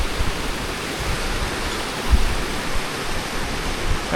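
Small waterfalls along the Kungsleden trail give a steady, loud broadband rush of falling water that continues without a break through the whole clip.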